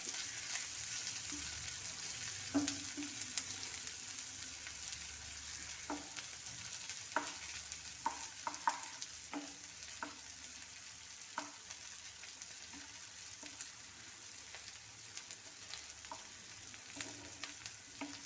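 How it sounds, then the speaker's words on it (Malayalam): Onions fry in oil with chilli and garlic while a spoon stirs them, giving a steady soft sizzle under repeated scraping and clinking strokes. The sizzle sits at low to moderate volume throughout. "നമുക്ക് ഇതിനകത്ത് സവാള ഇട്ട് മൂപ്പിച്ചെടുക്കാം"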